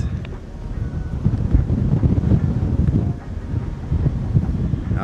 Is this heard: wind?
yes